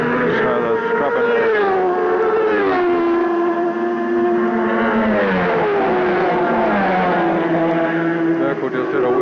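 A 1988 World Superbike racing machine at Manfeild howls down the front straight during a tyre warm-up wheelie, its loud, sustained engine note rising and falling through the gears close by, with crowd or commentary sound underneath.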